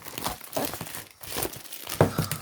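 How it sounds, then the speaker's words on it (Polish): Close crinkling and rustling of plastic foil as a Jeep Willys MB model kit is unwrapped, in quick irregular bursts. "Najpierw rozpakujemy model."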